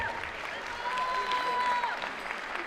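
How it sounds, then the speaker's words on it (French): Audience applause for the competitors at a French bodybuilding championship, a steady wash of clapping with a voice speaking over it. "Applaudissez-vous, vous avez été extraordinaires."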